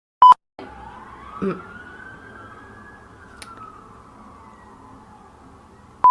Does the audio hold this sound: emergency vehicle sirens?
yes